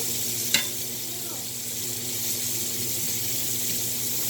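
Onions sizzle in a pan as the base for a sauce, a steady, fairly loud frying hiss that runs the whole time, with one brief clink near the start.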